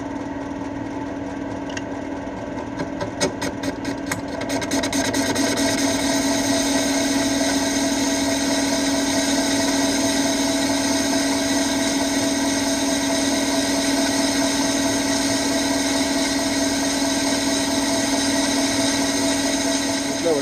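Metal lathe turning a crankshaft, a steady whining hum with tonal machine drone after a few clicks at the start, running continuously at close range.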